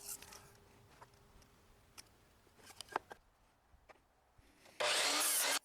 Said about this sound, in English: took a 45-degree cut on the miter saw